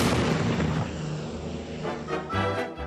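A bombing effect for the Pearl Harbor attack: a loud, heavy, rumbling explosion roar that fills the whole stretch, with deep booming swells and no voices.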